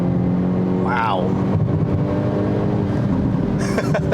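A 2022 Hyundai Elantra N turbo sport compact sedan accelerates with a loud, continuous exhaust drone heard from inside the car, the pitch climbing and shifting, while a voice briefly exclaims partway through.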